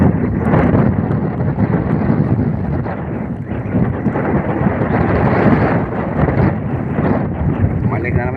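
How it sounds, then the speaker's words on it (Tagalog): Strong wind roars across open water during rainy-weather fishing from a small boat, a loud, continuous buffeting rumble on the microphone with surging gusts that persists throughout. "Balik na naman yung hangin, malakas."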